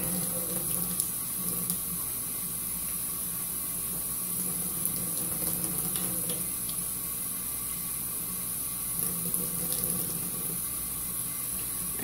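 Tap water runs steadily into a sink, a constant close hiss and splash with no pauses.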